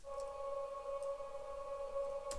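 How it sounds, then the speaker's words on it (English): A quiet, sustained atmospheric synth drone holds a steady low-mid pitch with soft overtones, faint and unbroken throughout, with a few light airy accents near the start and end. "This drone sounds like this."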